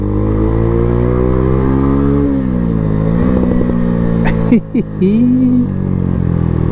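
A Lexmoto Hawk 125 motorcycle engine drones loud and steady while riding, its pitch shifting as gears change, with brief revving dips and wind rumble throughout.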